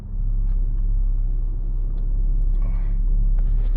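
A Renault Megane with a 1.5 diesel K9K engine idles with a steady, close, low rumble and a deep hum that continues unbroken, with no talk over it.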